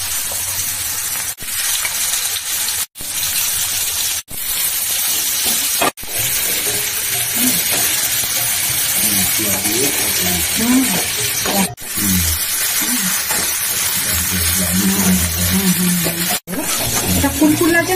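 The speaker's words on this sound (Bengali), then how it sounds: "পটল ভাজা মশলা দিয়ে পাহাড়ি পটল।" Hill pointed gourd (potol), cut into pieces and rubbed with cumin and chili powder, frying in oil: a loud, constant sizzle with occasional stirring clunks while someone talks over it.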